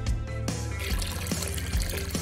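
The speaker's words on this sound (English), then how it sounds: "now I need to pour in some of this juice" Juice poured into a bucket gives a loud, continuous glugging splash under busy background music, steady throughout the short stretch.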